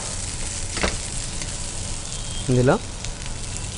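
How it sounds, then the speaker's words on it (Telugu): Paneer frying lightly in a pan, giving a soft, continuous sizzle with faint crackles. A voice speaks briefly over it. "పన్నీర్ అనేది లైట్గా వీటికి పట్టుకునేంత మటుకు ఫ్రై చేసుకుంటే"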